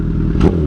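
A 2012 Honda CBR 1000RR sportbike engine runs close and loud in a steady low drone, with a brief swell in the middle.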